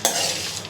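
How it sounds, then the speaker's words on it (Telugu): Dry fruits frying in a pan, a brief burst of sizzling with a stirring scrape at the start and a clink at the end, close and fairly loud with no talk. "ఇప్పుడు మనము ఫ్రై చేసుకుందాము."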